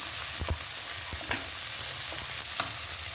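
Chopped green chillies fry in a pan for a brinjal curry, giving a steady close sizzle and hiss punctuated by a few sharp stirring clinks, with no talking.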